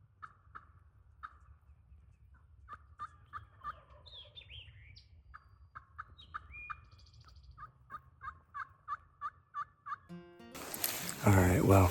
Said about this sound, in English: We heard 2 gobblers, a couple hens